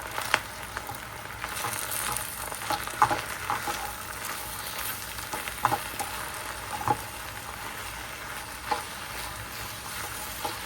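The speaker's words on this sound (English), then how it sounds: "This is how our spinach look once we allow it to cook down." Spinach cooking down in a pan gives a soft, continuous sizzle with occasional small pops and stirring clicks scattered through it, fairly quiet and close, with no voices.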